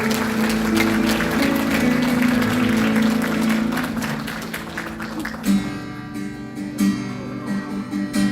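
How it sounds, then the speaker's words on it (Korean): A church congregation at an anniversary thanksgiving service claps together in a dense, loud burst of applause for about five seconds, which then thins out as organ-like music carries on with scattered claps. "주님께 영광의 박수 올려드리겠습니다."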